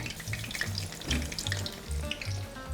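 Food sizzles steadily in hot oil, scored so the oil gets inside and it crisps quickly, with a continuous crackle and some soft low tapping sounds from handling in the pan, and no one talking.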